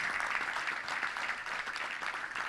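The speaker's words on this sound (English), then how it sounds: "Let's give a round of applause to all those great sponsors." A crowd applauds sponsors at a Little Rock Touchdown Club luncheon, steady dense clapping filling the room for a couple of seconds without pause.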